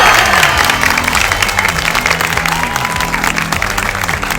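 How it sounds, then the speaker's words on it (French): An audience at a school climate event claps loudly and steadily, dense continuous applause with a little cheering mixed in. "Applaudis bien fort le Mahatma Gandhi."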